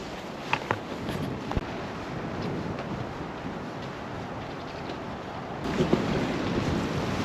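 Strong wind rushes through trees on a hiking trail before a snowstorm, a steady broad roar with a few faint creaks and knocks, swelling slightly near the end.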